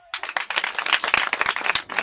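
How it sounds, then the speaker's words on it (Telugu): Wedding guests clapping together at a church wedding ceremony in Mannavarappadu, a brief burst of quick, loud, close applause starting abruptly after quiet. "ఇప్పుడు చప్పట్లు కొట్టు."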